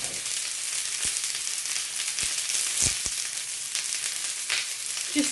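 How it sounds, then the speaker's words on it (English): Chopped onions frying in a tablespoon of oil on a hot plate, giving a steady, close hiss of sizzling with a few soft knocks and clicks along the way, and no voices. "I'm also going to add some onions to it. And then we're just going to fry them."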